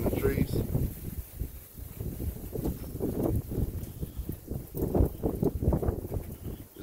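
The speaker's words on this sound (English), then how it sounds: "we're starting to get some of that wind coming through, gusting through here" Wind gusting through trees outdoors in Frostproof, Florida, a steady broadband rush with surging gusts and microphone buffeting, continuous throughout with no voices.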